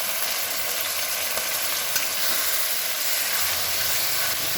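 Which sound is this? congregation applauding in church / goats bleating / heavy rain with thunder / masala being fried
masala being fried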